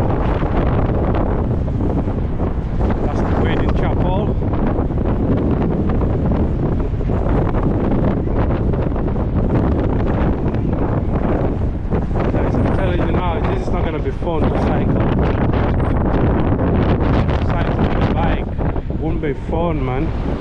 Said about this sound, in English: Wow, how windy it is. Very, very windy.